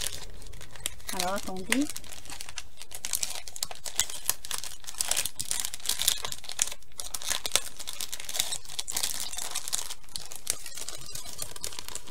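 Packaging being unwrapped from small handmade plaster objects, with close crinkling, rustling and tearing throughout and a brief spoken word near the start.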